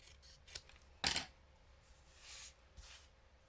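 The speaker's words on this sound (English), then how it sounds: "Cut this into a little word banner." Scissors snipping a small stamped paper word banner at a card-making table, a few quiet crisp cuts with one sharper snip, close and alone.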